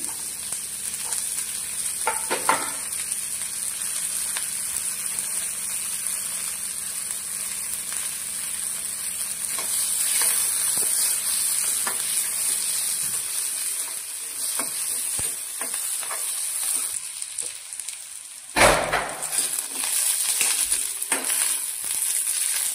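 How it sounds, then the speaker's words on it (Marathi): Onion frying in a pan for a Maharashtrian onion-coconut masala, a steady continuous sizzle with occasional stirring scrapes and clinks, close and unbroken throughout with no talk. "आता मी कांदा भाजून घेते."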